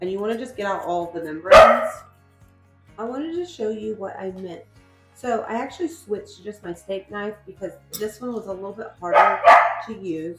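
A dog barks in a home kitchen with a couple of sharp, loud outbursts, one early and one near the end, while a person keeps talking through cooking steps for stuffed peppers.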